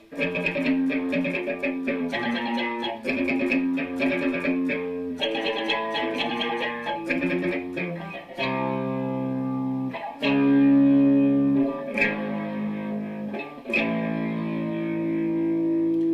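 An electric guitar strums the verse chord progression of a song with light effects and some reverb, chords changing steadily and ringing out, played alone at moderate volume.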